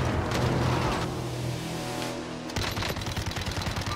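Rapid automatic gunfire rattles in Warzone, a bursty stream of shots that pauses briefly and then resumes in quick repeated cracks, fairly close and without talk.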